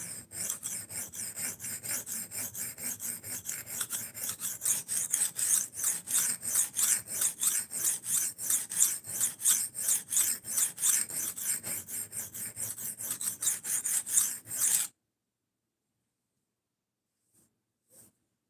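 A stainless steel knife blade is drawn over a sharpening stone in quick, steady, rasping strokes, close and continuous for several seconds before stopping abruptly into silence.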